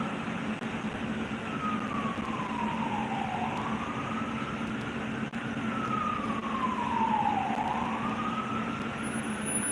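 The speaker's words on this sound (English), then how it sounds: "Hear the sirens?" A wailing siren sweeps down and back up in two long, slow cycles, steady and fairly distant, over a constant low traffic rumble.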